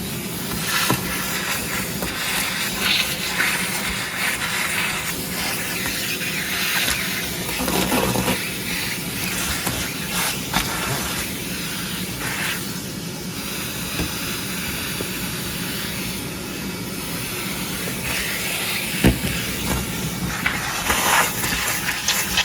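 A shop vac runs inside the interior of a Crown Victoria, giving a continuous airy hiss and roar that shifts in tone as the nozzle moves and sucks up debris, fairly close and steady throughout.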